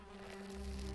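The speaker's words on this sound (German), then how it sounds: "Bienennest." Bees buzzing around a bee nest in the snowy mountains of Valheim, a steady droning hum with a strong pitched tone that holds constant throughout, close and unbroken.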